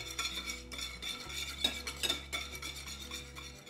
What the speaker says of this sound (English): And whisk them.